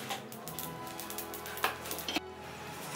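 A teaspoon of mustard seeds dry-roasts in a small pan on the stove, giving a soft continuous sizzle with a couple of sharp pops or clinks near the middle.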